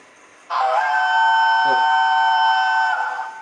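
A loud LNER steam locomotive whistle blasts in suddenly and holds a long, steady chord-like tone, close and piercing, before tapering slightly at the end.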